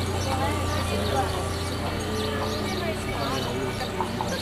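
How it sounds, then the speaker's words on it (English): Horse hooves clip-clop from a horse and carriage in a Costa del Sol street, faint and steady beneath a busy outdoor bed of voices, birds and ambient bustle. "this delightful horse and carriage was being well used too"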